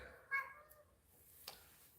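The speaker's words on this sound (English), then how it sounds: "You just want to meow at me." A cat gives one brief, soft meow near the start, followed by a faint tick or tap and low room quiet.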